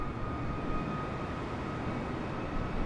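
An airplane on a low landing approach in Microsoft Flight Simulator on Xbox Series X gives a steady, loud engine drone with a constant tonal hum, unbroken for the whole stretch and with no talking.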